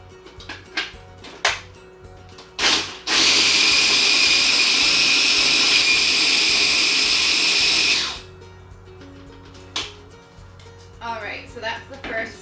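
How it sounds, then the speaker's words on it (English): A food processor runs loud and steady for about five seconds, grinding biscuits into fine crumbs. A voice and kitchen clatter come before and after the whir. "we're going to pop them into a food processor and pulse until they resemble a fine crumb"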